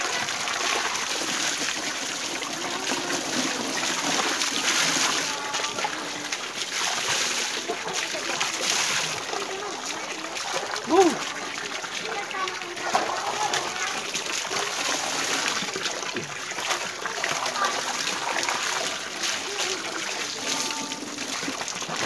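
Water flowing steadily in a rural province setting, a continuous broad rushing and splashing wash that stays loud and close throughout, with people talking at times underneath.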